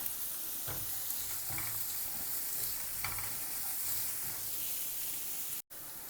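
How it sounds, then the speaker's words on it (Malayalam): Onions and curry leaves sautéing in a pan, a soft steady sizzle with a few stirring scrapes and knocks at intervals, quiet and close with no talking. "സവോള എന്നിട്ട് നന്നായിട്ടൊന്ന് വഴറ്റി, ഒന്ന് വെന്ത് വരുന്നവരെ ഒന്ന് വഴറ്റിയെടുക്കാം"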